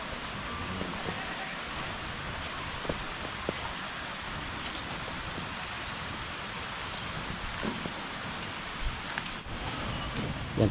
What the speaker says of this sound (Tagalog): may mahina naman pag-ulan dito sa amin